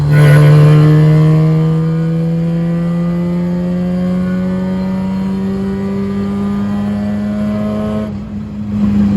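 A Mazda RX-7 13B bridgeport rotary engine with individual throttle bodies revs loud and close, a sustained rising buzzing note climbing steadily for several seconds before cutting off abruptly near the end.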